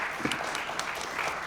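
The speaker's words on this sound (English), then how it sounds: "How about a round of applause for them?" A crowd at a high school quiz bowl match applauds to welcome the Dakota team, a continuous, soft patter of many hands clapping at a distance, steady throughout.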